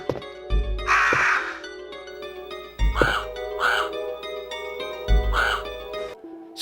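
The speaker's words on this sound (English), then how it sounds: "And even the crow sounds are actually different too." A crow cawing in the Saturn version of a survival horror video game, three harsh, loud caws spaced about two seconds apart over a steady droning ambient background.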